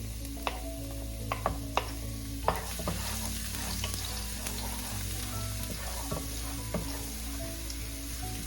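Garlic frying at medium-high heat for squid adobo, a steady close sizzle with scattered sharp ticks and spoon scrapes against the pan as it is stirred, no talking.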